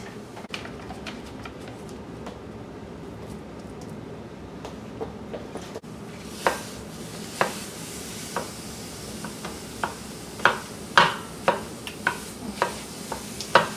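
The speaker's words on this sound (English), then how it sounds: "So I had my skillet, it's on low, getting warm, and I'm about to add my meat." Ground meat sizzling in a warm skillet on low heat, a steady close hiss that brightens once the meat goes in, broken by sharp scraping stirs and spatula taps.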